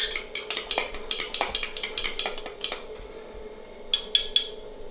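A utensil clinks and scrapes rhythmically against a bowl while beaten egg yolks are stirred into a mixture, then pauses before a few final taps, all close up with no talking.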